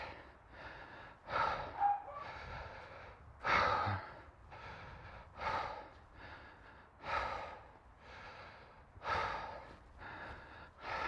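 Fast, heavy breathing after a high-intensity interval workout: rhythmic gasping inhales and exhales, close and loud, repeating about every second with no talk.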